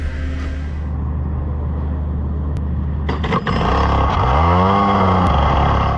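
Racing kart engine running close by as the kart heads out for a race-day warm-up session, a loud steady drone that climbs into a rising, revving whine.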